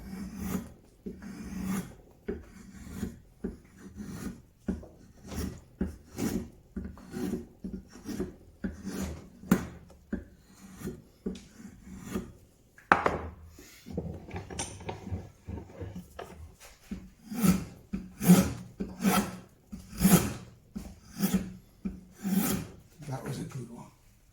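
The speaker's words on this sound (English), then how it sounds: "The draw knife's a wonderful tool." A draw knife shaving green wood for a three-legged stool, a long run of regular rasping strokes, each a short scraping pull repeated about once a second, close and fairly loud, with no talk over it.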